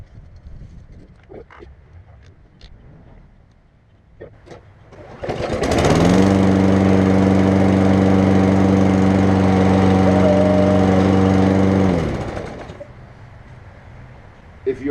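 A push lawn mower, its carburetor just cleaned, fires up after faint clicks and handling noises. It runs at a loud, steady, close idle for about six seconds, then cuts off and winds down.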